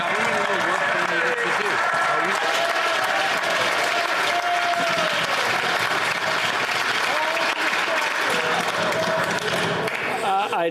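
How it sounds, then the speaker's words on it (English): Sustained applause fills a parliamentary chamber after the Prime Minister's answer, steady and dense throughout with scattered voices and calls mixed in beneath the clapping. "They were applauding so much for his answer"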